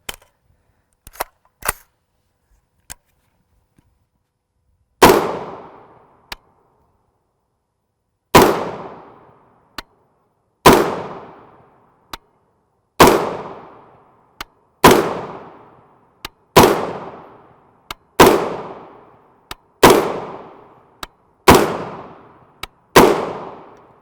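A 5.56 AR pistol with a short barrel and 3-port muzzle brake fires about ten sharp, loud shots at irregular intervals of one to three seconds, each with a ringing decay, after a few faint clicks at the start.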